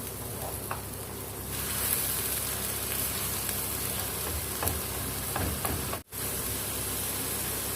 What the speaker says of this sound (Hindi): प्याज का पेस्ट और इसको भून लेंगे।